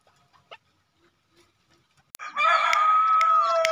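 A white-breasted waterhen kept as a decoy bird at a swamp gives a loud, sustained call that starts abruptly after a few seconds of faint, scattered sounds and then continues steadily to the end.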